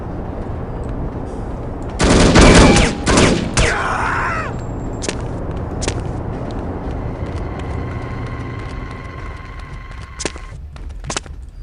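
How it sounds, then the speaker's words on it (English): Bursts of automatic gunfire in the No One Lives Forever video game, a loud rapid volley followed by scattered single shots and game ambience. "He just fired off a load of shots and nobody seemed to notice."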